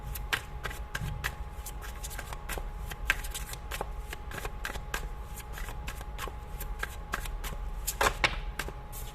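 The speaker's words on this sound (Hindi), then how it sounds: "मैं ये दो कार्ड्स अलग रख रही हूँ अभी, इसको जरा देखना चाहूंगी" Tarot cards shuffled and handled close by, a steady run of quick papery riffles and flicks with occasional sharper snaps as cards are set down, no talking.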